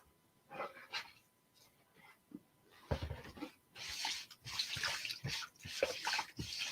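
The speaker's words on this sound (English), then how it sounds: "then we will wash our transfer again" A Chalk Couture transfer stencil is washed under water, producing intermittent splashing and running-water bursts that grow louder toward the end, fairly quiet and close.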